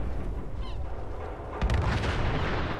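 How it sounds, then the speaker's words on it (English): Two suicider enemies in Fallout 4 blowing up together, a dull explosive boom followed by a heavier, rumbling blast, loud and close with no talk. "Double explosion, 2 for the price of 1."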